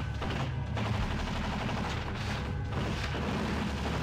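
Gatling guns in the video game Fallout 1 fire as a steady, continuous mechanical rattle of rapid shots, dense and sustained throughout with slight swells in intensity.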